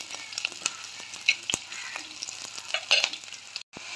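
Chopped green chillies sizzling and being stirred in a hot pan while mackerel curry is cooked, with steady close frying crackle, scattered pops and scrapes, and no talk.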